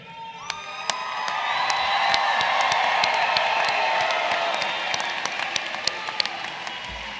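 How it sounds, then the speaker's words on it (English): Graduation convocation audience clapping and cheering, a broad wash of applause with whoops and shouts rising early and sustaining, then tapering slightly with scattered claps near the end. "I want you to cheer and clap as loud as you can whenever you want"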